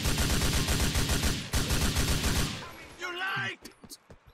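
Loud, rapid automatic gunfire rattles through a GTA IV video game shootout, dense and continuous for about two and a half seconds. A short burst of chatter follows, then a few scattered shots.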